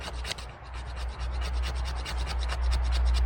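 A ferro rod scraper grates fatwood into shavings, producing close, rhythmic rasping strokes with a steady low rumble underneath, loud and uninterrupted by speech.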